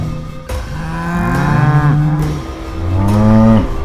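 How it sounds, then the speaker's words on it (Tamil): A wild water buffalo lows twice in long, drawn-out moos, close and loud with a rising then sustained tone, separated by a short pause and no talking. "திடீர்னு தண்ணிக்குள்ள காட்டு நீர்மாடு வந்துருச்சு."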